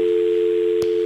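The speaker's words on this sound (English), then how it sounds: "do we have a dial tone?" A telephone dial tone holds as one steady, loud, unbroken hum. Near the end it drops out for a moment under a brief click.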